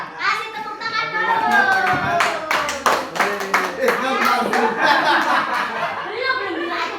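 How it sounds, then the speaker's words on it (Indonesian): Children in a classroom clap their hands in a burst of many quick, uneven claps, mixed with lively kids' chatter and laughter close by throughout. "Ayo, kasih tepuk tangan dulu."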